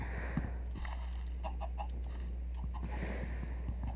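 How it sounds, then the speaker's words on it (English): A small chicken in Minecraft lets out a few faint, short clucks over a low steady background hum. "Oh, there's a little chicken. Hi, little chicken."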